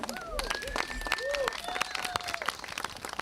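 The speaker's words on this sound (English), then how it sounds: "let's have a round of applause for the next speaker" Scattered, fairly faint audience clapping greeting the next speaker at a talk, mixed with whistles, murmurs and some voices in the room.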